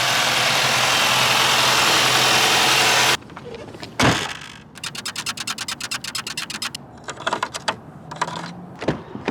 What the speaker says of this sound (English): time for a cold start on the Audi Q5